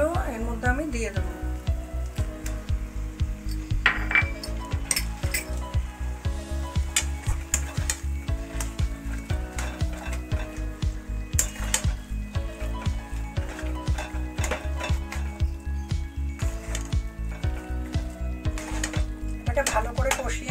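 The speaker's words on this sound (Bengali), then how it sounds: "এটাকে ভালো করে কষিয়ে নেব, একটু শক্ত শক্ত মতো হবে।" Prawns and pointed gourd are sautéed with boiled potatoes in a pan. A constant close sizzle carries frequent scraping stir strokes and light clinks against the pan.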